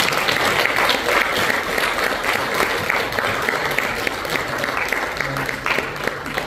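Congregation applauds visiting pastors at a Korean church's founding thanksgiving service in LA, a steady, dense wash of clapping lasting throughout, with faint voices mixed underneath.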